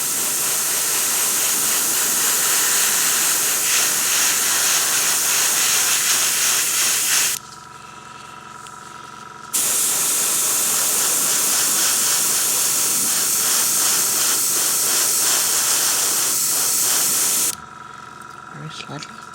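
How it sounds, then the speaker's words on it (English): An airbrush spraying paint onto a Cairn Wraith miniature, a loud continuous hiss that cuts off twice into a quieter pause with a low background hum before resuming. "you get a real nice fading with the airbrush"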